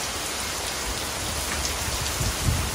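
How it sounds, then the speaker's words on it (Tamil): Heavy rain pours steadily outside a home balcony during a thunderstorm, a dense, unbroken hiss of downpour with a few slightly louder splashes near the end. "பயங்கர மழை, தண்ணி அப்படியே ஊற்றுது."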